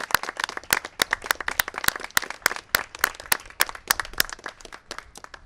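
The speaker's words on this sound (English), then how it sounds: "Let's have a round of applause for our first responders." A crowd at a political event on Hurricane Ida recovery claps steadily, with sharp individual claps standing out in a loud, continuous burst of applause.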